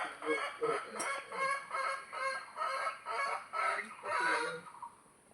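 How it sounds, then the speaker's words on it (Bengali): A rooster at the Chimbuk hill viewpoint in Bandarban gives a run of repeated, harsh fowl calls in quick pulses, fairly close and loud, with nothing else competing. "এটা ছিল মোরগের ভাষা ইন্ট্রো মানে মোরগ ইন্ট্রো দিল"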